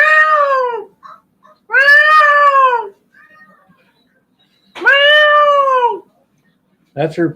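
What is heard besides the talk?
peacock call being played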